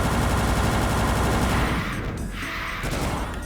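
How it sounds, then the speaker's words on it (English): Plasma rifle firing at pain elementals in Final Doom, a dense rapid stream of shots forming a continuous loud burst that briefly thins before resuming. "quickly switch to the plasma and deal with these pain elementals"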